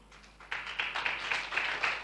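A small audience applauding, soft and fairly distant, a scattered patter of claps that swells after a quiet start and holds steady.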